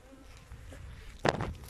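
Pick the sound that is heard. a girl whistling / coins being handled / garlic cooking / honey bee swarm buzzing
honey bee swarm buzzing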